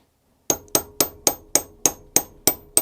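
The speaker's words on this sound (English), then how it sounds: "Trying to avoid hammering directly onto the vise" Sharp metallic hammer taps on a split pin in a vise, from a 2007 Ford Ranger track rod end, strike in a steady rhythm, about eight evenly spaced blows, close and crisp with nothing else around them.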